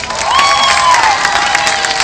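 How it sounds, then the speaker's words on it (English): Elementary school children at a Red Ribbon assembly clap and cheer loudly for a DEA pilot being introduced, a close, dense burst of applause with high shouted voices and whoops layered on top. "let's give him a round of applause because he's cool"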